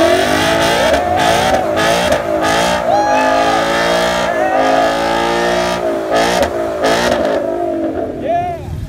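A Ford Mustang drift car at a Formula Drift event in Atlanta revs hard during a burnout attempt, its engine wailing up and down in repeated loud surges and bouncing off the limiter, while a crowd shouts over it.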